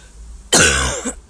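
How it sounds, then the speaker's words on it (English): A single harsh, throaty cough breaks out close up after near silence, followed by a brief rasping throat-clearing tail, from one person with a recurring cough. "Sorry, my cough's back at me a little bit."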